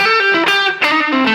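Distorted electric guitar plays a quick blues lick in E over slow blues changes, a loud run of sustained, gritty notes with no talking.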